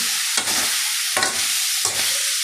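Vegetables for chop suey sauté in a hot pan with oyster sauce, liquid seasoning and salt, giving a steady loud sizzle broken by three sharp scraping stirs at even intervals.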